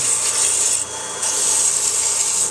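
Steady abrasive rubbing, a continuous dry rasp of 120-grit sandpaper against a wooden Christmas tree ornament spinning on a wood lathe, loud and close, with a brief dip partway through.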